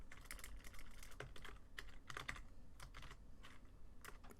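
Quiet, close typing on a computer keyboard while entering C++ code, with irregular clusters of soft key clicks and brief pauses between bursts, and no talking.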